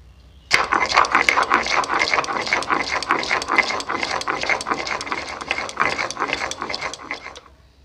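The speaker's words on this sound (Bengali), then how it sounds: "তাহলে চলো সরষা আর কাঁচা লঙ্কাটা একসঙ্গে বেটে নিই।" A spice grinder runs as mustard seeds and green chilies are ground together for a mustard fish curry, a close, loud, rapid rattling whir that starts suddenly and continues steadily for several seconds before fading out.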